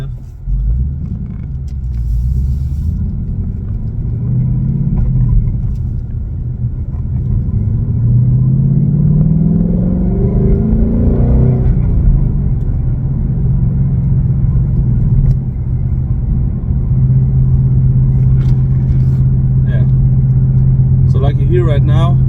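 Low, rumbling engine and exhaust of a 2021 Ford Mustang GT in normal mode, cruising and then revving up before settling, heard close from inside the car with people talking over it.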